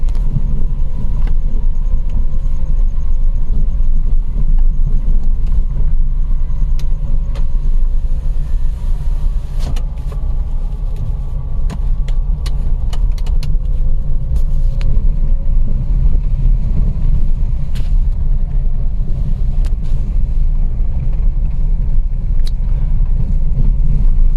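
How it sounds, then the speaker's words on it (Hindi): A motorbike on a forest road at night, its steady engine drone heard from inside a vehicle on a night drive, with continuous low rumble and wind noise and occasional clicks. "से बाइक आ रही है शायद"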